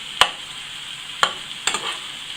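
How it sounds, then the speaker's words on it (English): Chicken fajitas being stirred around a frying pan with a spoon, giving three or four brief scraping clatters over a faint, steady sizzle. "just carry on stirring it around"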